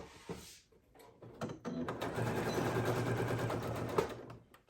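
A sewing machine stitching a seam on a large IKEA bag, starting with a few short bursts and clunks, then running steadily for about three seconds at moderate volume before stopping, with no talking.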